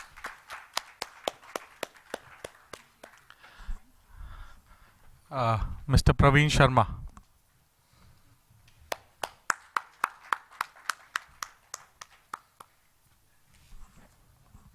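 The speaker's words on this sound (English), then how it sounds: "round of applause, please" Sparse, evenly spaced hand claps from a conference audience applauding panel speakers, crisp and fairly close, broken midway by a brief burst of an announcer's voice before the clapping resumes.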